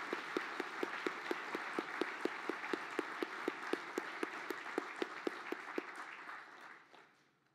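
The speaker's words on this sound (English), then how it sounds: "I think they deserve a round of applause as well." Audience applause at an engineering excellence gala, a full room clapping steadily with a few sharp claps standing out, holding strong for several seconds before tapering off and fading near the end.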